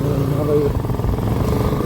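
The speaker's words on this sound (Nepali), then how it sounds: "मेरो बाइक" A motorcycle engine runs steadily and close by, its low, even rumble continuing throughout while a person speaks over it.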